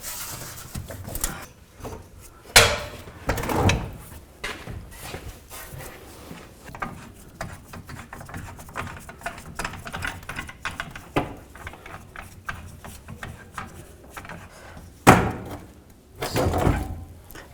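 Metallic clunks, knocks and scraping as the fuel tank of a 2007-13 Chevrolet Avalanche is slid back during a fuel pump module replacement, with irregular loud thumps among fainter rattles.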